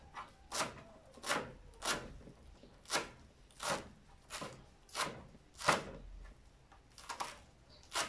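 A knife chops cilantro very finely in a quiet, even rhythm of about a dozen soft thuds, each a short crisp cut, close by with no talking.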